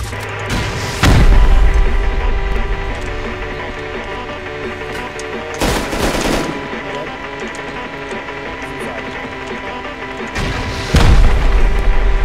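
Three heavy rocket explosions from the video game Rust boom out loud and near at the start, middle and end, each a sharp broadband blast that rolls off, over a steady game ambience.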